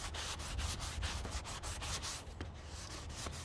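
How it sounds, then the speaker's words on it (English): Steady rhythmic scraping of a 220-grit sanding block rubbing back and forth over an oak cabinet, close and continuous, with no voices. "get yourself a sanding block like this"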